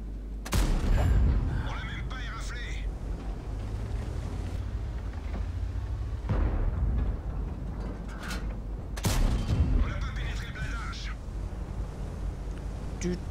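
Tank cannon fire in the World of Tanks video game: three heavy blasts, about four seconds apart, each booming over a constant low engine rumble and mechanical clatter.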